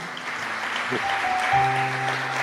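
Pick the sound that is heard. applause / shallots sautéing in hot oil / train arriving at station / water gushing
applause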